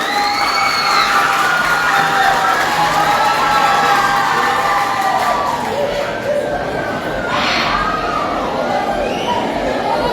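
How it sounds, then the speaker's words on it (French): A school audience at an expert-quiz final between two schools in Limonade greets a called contestant with loud, continuous cheering, shouting and clapping. Children's voices ring out over the crowd noise. "Sous vos applaudissements, on appelle Dieudonné Emmanuel."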